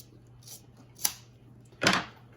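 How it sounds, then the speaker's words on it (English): Two short, crisp snips of splicing scissors cutting three-strand rope strands a moment apart, the second louder and fuller, over a steady low hum with no voices. "Splicing scissors are pretty nice here"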